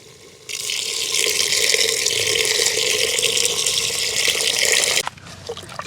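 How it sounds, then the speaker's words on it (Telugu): Water pours steadily into a clay pot of biryani in a continuous rushing stream for several seconds, close by, then stops abruptly. "ఇప్పుడైతే కొద్దిగా నీళ్ళు పోసుకుందాం"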